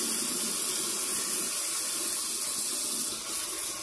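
Water runs steadily from a faucet into a sink, a loud, close, continuous hiss and splash with no talking.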